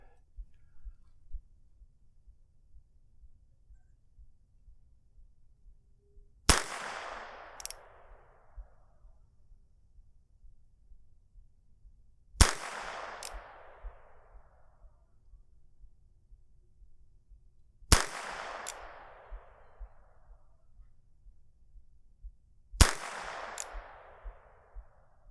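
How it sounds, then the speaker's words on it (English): Four sharp, loud shots from a Pietta 1851 snub nose revolver fitted with a .22 conversion cylinder firing CCI rounds, spaced roughly five to six seconds apart, each followed by a brief ringing decay over quiet background. "we're going to be shooting at a target about 15 yards away"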